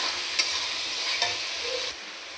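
Tomatoes and fried potatoes stirred in a frying pan, a steady sizzle with a few soft scraping strokes of the spoon, close and alone.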